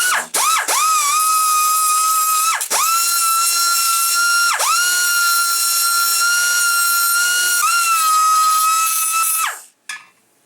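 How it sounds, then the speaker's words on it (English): A small rotary grinder or Dremel tool deburrs the edges of a metal GSI cup lid, a loud steady high-pitched whine broken by a few short dips where the tool's load changes, cutting off near the end. "we're going to take our little grinder here, and you can use a Dremel tool or sandpaper, and we're going to clean these edges up"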